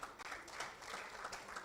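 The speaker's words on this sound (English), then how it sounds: "Let's clap now" At an honorary doctorate conferment ceremony in Lagos, Nigeria, an audience claps steadily for a moment, the applause faint and distant with no voices over it.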